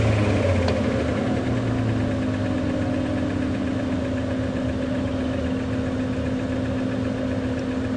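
A safari vehicle engine idles at Djuma Game Reserve, holding a steady, rough, close mid-pitched rumble with a constant vibrating drone and no clear rise in speed.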